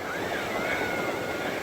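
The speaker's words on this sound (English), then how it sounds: "We finally made it to the beach. Oh, like, to the water part." Ocean waves wash onto a beach in a steady, loud broadband roar mixed with wind buffeting the microphone, with no talking.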